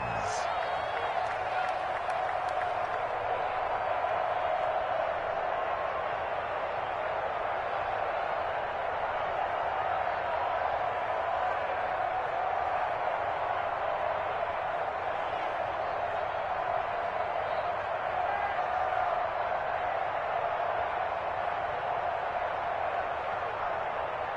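Stadium crowd in a football video game, a broad steady roar of cheering that holds at an even level throughout, with a commentator's voice running over it.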